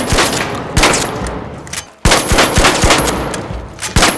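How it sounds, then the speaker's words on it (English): Heavy-class shotgun blasts in the video game The Finals, loud sharp reports fired in quick succession with short pauses, each followed by echoing rattle and debris, no talk over them. "So this is the normal shotgun on the heavy."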